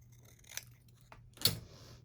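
Scissors snipping the string of a bead dangle for a junk journal tag, two or three quick, close crisp cuts with a final louder snip, against a quiet room hum.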